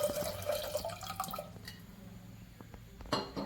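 Water splashes and trickles into a pot of dal for a pressure cooker, with drips and glassy clinks fading into quieter kitchen handling.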